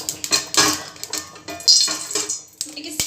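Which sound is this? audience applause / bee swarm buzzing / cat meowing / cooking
cooking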